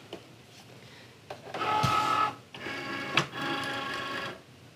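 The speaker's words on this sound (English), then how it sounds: "And then you hit the C for Cricut for go. And it'll take it in and it will cut it for us." A Cricut cutting machine feeds in quilting fabric and cuts it, giving a steady mechanical whir with two longer motor runs and a sharp click between them, close and alone.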